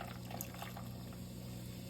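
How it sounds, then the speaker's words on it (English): Liquor poured over the top of a homemade Star Wars Oga's Cantina cocktail, a soft, steady liquid trickle that stays faint and even for about two seconds with no talking. "So we'll pour that right on top and let it mix itself in."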